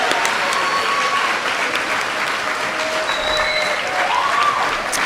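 At a middle school farewell ceremony, a large audience claps loudly and steadily for new ninth graders, a dense, even wash of applause with faint cheering and whistles rising through it.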